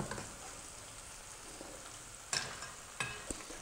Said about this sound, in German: Sobald der Blumenkohl angebraten ist, drehen wir ihn um.